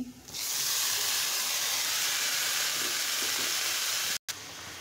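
Washed, chopped ash gourd hits hot oil in a pan and erupts into a loud, sustained hissing sizzle that runs nearly the whole time, broken by one brief cut near the end.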